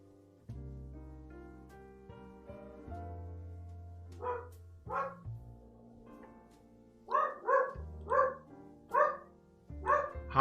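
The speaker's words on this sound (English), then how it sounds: "Sorry about the dog." A dog barks in a quiet room, a few single barks then a quicker run of sharp repeated barks, fairly close, over a soft steady hum with no talking.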